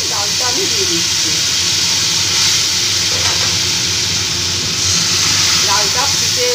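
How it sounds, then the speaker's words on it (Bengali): Boiled mung dal with pumpkin poured into a hot spice tempering in a pan sets off a loud, steady sizzling hiss that holds for the whole stretch without a break. "এবার এই মুগ ডালটা যে আমি সেদ্ধ করে রেখেছি মিষ্টি কুমড়ো দিয়ে ডালটা আমি দিয়ে দিচ্ছি"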